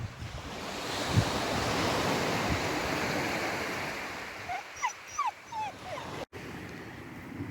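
Surf washing onto a beach beneath cliffs near a row of beach huts, a steady broad rushing roar with wind noise, fading slightly later as a dog whimpers and squeaks several times nearby.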